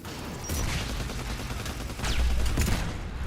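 Gunfire in the Mass Effect video game, a loud, dense fusillade with bursts near 0.5 and 2.5 seconds, layered over a steady combat rumble with no voices.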